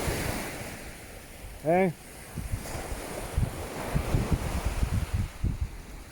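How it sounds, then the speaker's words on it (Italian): Sea waves break on a Sardinian shore at sunset, a steady wash of surf and wind noise with a brief tonal chirp partway through. "Però sentite il rumore del mare"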